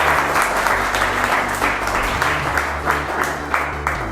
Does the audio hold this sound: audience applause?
yes